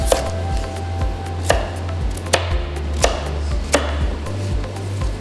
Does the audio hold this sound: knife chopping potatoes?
yes